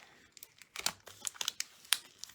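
Paper from a Stampin' Up! Paper Pumpkin papercraft kit is ripped and crinkled up close, a quiet run of sharp tearing bursts and rustles coming in irregular spurts.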